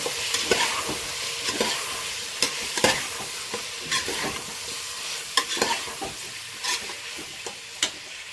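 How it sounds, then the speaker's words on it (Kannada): Turmeric is stirred into chicken biryani masala in a pan, with repeated sharp spoon scrapes and knocks against the metal over a steady frying sizzle, close and rhythmic, without speech. "ಇದನ್ನು ಕೂಡ ಚೆನ್ನಾಗಿ ಮಿಕ್ಸ್ ಮಾಡ್ಕೊಳ್ಳೋಣ"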